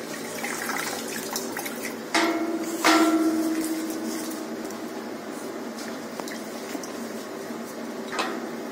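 Herbs are rinsed in water in a home kitchen: soft sloshing and swishing with a few sharper knocks, fairly quiet and close, with no talking.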